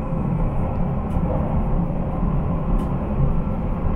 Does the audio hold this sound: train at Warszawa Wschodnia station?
yes